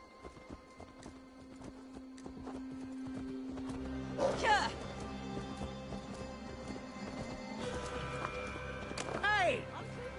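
A horse's hooves clop steadily in the Assassin's Creed Valhalla video game, faint beneath game music and ambience, with a horse neighing partway through and again near the end.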